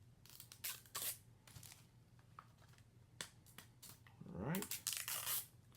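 Blu-ray packaging being opened, with sharp snaps, tearing and crinkling of plastic and a sticker, coming in irregular bursts at close range, busiest near the end, with a brief spoken remark.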